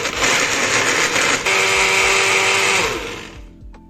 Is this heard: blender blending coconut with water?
yes